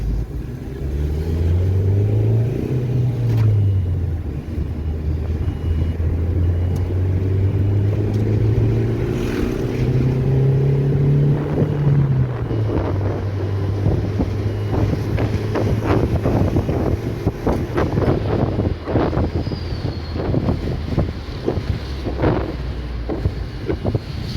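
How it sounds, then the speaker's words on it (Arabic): A Geely Emgrand with an engine rev counter that rises and falls, out on a test drive; the engine hum climbs and drops as it shifts, under steady wind and road noise inside the moving car. "احنا طالعين نجرب العربيه الجيل اهي"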